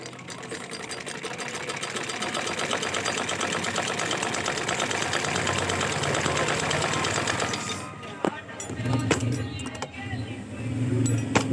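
A sewing machine, just repaired after its needle timing kept snapping needles, runs in a fast, steady mechanical clatter for about eight seconds, then stops into quieter handling noises and some low talk.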